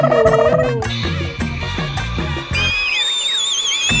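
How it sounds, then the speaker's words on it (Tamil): A high, warbling whistle rings out alone after a stretch of busy music and effects from a theater print of a 3D film. "என்ன இது விசில் சவுண்ட்லாம் கேக்குது?"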